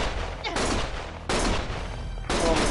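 Video game gunfire in Lost Judgment, heavy rapid bursts of shots in a few loud blasts with short gaps, alongside shouting game dialogue.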